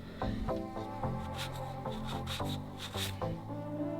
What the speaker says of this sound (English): Now let's wipe Mr. Clean off